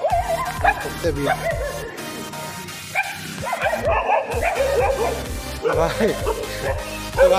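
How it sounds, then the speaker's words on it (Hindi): Several dogs bark, yip and whimper near a metro railway platform at six in the morning, with repeated close bursts and short pauses while voices talk in the background. "जो कि इनको देख देख के सारे कुत्ते यहाँ पे भागना स्टार्ट हो गए।"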